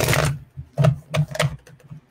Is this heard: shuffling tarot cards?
yes